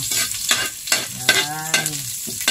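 Ginger sizzles in hot oil in a pan while a utensil scrapes and stirs it in quick, repeated strokes, cooked as the base for stingray with black beans.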